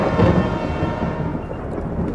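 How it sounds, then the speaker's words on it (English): Heavy rain pouring down outdoors, a dense, steady wash of hiss and rumble filling the scene with no gaps, loud and close throughout. "it's raining like crazy right now"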